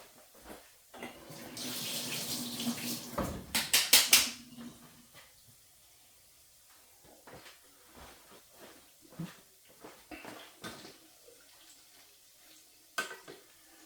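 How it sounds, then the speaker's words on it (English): A kitchen tap runs briefly while hands are washed, a steady rush of water for a couple of seconds ending in splashes, followed by quiet clinks and small handling sounds. "Let me just wash my hands."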